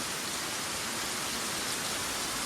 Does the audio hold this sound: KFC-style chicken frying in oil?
no